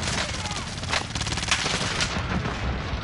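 Rapid bursts of gunfire in a video game, with sharp cracks and sustained automatic shooting over dense battle noise, continuous and loud for the whole stretch, with faint voices underneath.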